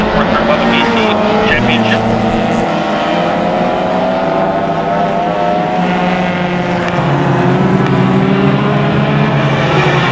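Spec Miata race cars lapping Mission Raceway Park in a closed-wheel race: loud, continuous engine drone with pitch rising and falling through gear changes, several cars close together, under a commentator's talk.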